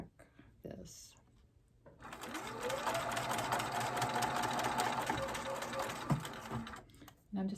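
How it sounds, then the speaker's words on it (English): A home sewing machine stitches a pennant with 50-weight Aurifil thread and back tacks, a close, steady motor whir running several seconds between soft handling clicks, fairly quiet overall. "Okay, so I'm going to sew, and I am going to back tack this."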